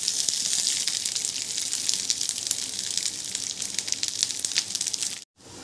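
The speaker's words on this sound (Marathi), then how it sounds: "आणि ह्याच्यात जे लसूण आहे ना ते पण थोडेसे भाजून घेऊया. आणि आलंही भाजून घेऊया." Grated coconut, garlic and ginger roast in a pan for a Maharashtrian chicken rassa masala. A dense, continuous crackling sizzle runs close and loud, then breaks off abruptly just before the end.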